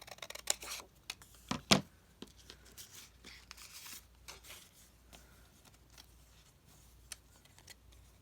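Scissors cut a sheet of paper down to size in a few close, crisp snips and rustles, one sharp cut standing out, then quieter handling of the paper.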